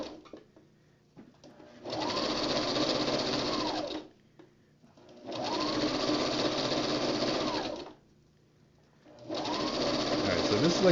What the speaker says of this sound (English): Sewing ASMR sounds okay?